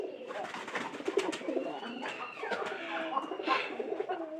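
Domestic pigeons, kept by a keeper whose birds suffer from a cold, coo steadily and close by, with soft throaty calls and a few higher chirps layered over one another for the whole stretch.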